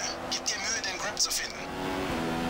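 A Formula 1 car engine in F1 2015 during a race at Interlagos, São Paulo, a steady mid-range whine with shifting pitch, partly under a voice talking.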